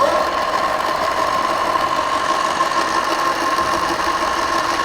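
A go kart bought from Amazon has its motor running in low power mode, giving off a steady mid-pitched whine and hum with a buzzing, rattling texture that stays level throughout.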